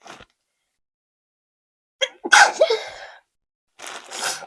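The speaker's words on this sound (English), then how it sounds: "sorry for the sneezing" A few sharp sneezes close by: a short one at the start, then a loud burst and another sneeze near the end, with silence between.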